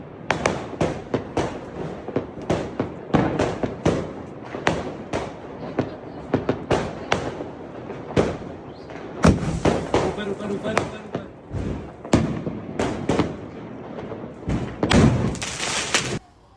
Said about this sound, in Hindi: और आई डोंट नो कैसे ये स्काई शॉट स्काई में फटने के बजाय नीचे आके फटा